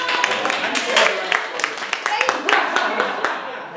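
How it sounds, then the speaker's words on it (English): A crowd at a social media training session claps and applauds for a few seconds, a dense patter of hand claps with some voices mixed in. "I said give yourself a round of applause"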